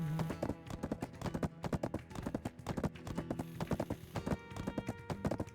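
Horse hooves clip-clop in a steady, quick galloping rhythm inside a video game, close and continuous throughout with a faint musical hum beneath and no speech.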